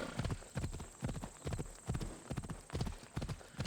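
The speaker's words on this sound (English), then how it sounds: "Horse riding is pretty good, pretty smooth." Horse hooves clip-clop steadily at a riding gait in the video game Assassin's Creed Odyssey on PS5, a close, regular rhythmic series of hoof beats carrying on throughout with no talking.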